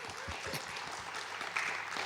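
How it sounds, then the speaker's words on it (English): Steady applause from a crowd, dense and continuous for a couple of seconds with no voices over it. "So now let's clap for GCPL and the Tamil Nadu government."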